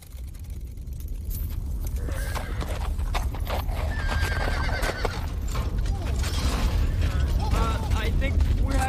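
Horses clip-clopping on a film set, loud rapid hoof beats with a whinny and some rattling mechanical noise, continuing steadily throughout alongside faint background voices.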